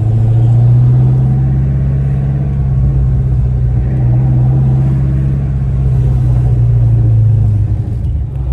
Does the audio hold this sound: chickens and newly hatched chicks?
no